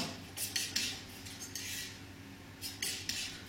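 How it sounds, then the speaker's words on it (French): Palette knife scraping and mixing paint with white on a palette, soft repeated scraping strokes in an uneven rhythm, close and quiet with no talking. "On frotte le couteau sans appuyer."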